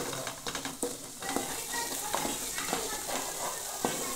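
Coconut and masala sizzle while roasting in oil in a pan, with scraping and stirring strokes from a spoon and scattered clinks, moderately close and steady throughout.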